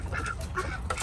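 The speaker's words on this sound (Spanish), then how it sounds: "Es el ese pato que está allá enfrente" A duck near a nest site gives a few short raspy quacks, close and moderately loud, over outdoor background noise.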